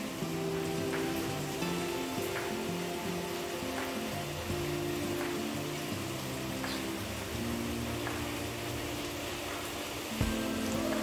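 Heavy monsoon rain pours over village fields with runoff water flowing, a steady dense hiss of rain throughout at moderate level, with a brief knock near the end and no speech.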